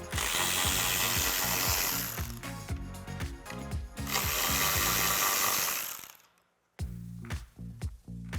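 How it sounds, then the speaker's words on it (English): A hand ratchet loosening 10mm nuts on a Ford Bronco, with rapid clicking pawl bursts, a brief pause, then more quick ratcheting and a few short clicks, close and clear, with no speech. "remove the two 10mm nuts so we can get this plate out of here"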